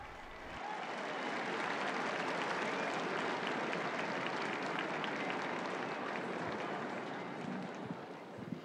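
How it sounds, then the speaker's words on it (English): Crowd applause rising from St. Peter's Square below the papal window at the Angelus on the Feast of the Assumption, a distant, steady wash of clapping that swells quickly and holds for the full length. "you can hear the applause below in the square"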